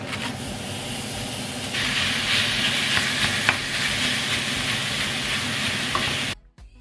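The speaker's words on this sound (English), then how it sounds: "Let me turn the fan on so you will hear a noise" Kitchen exhaust fan roaring steadily while ground beef sizzles in a hot pot, loud broadband whoosh that cuts off abruptly at the end, no talking.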